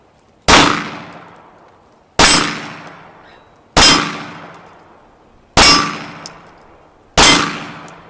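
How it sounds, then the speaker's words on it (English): An Inglis P-35 pistol shoots at steel gongs: five evenly spaced, loud sharp shots, each followed by a ringing metallic clang that decays, about one and a half seconds apart, with no talking. "You're beating the hell out of those gongs."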